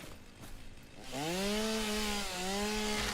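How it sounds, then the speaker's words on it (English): A chainsaw in the video game Satisfactory cuts into a tree, starting after a second and then running steadily and loudly with a rising, sustained engine whine. "Means I gotta get rid of that tree. Where's my chainsaw?"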